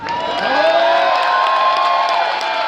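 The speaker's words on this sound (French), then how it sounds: "Un grand tonnerre d'applaudissements." A crowd at a gathering against a reform in Lannion cheers and whoops, with sustained, fairly loud, steady noise for about three seconds.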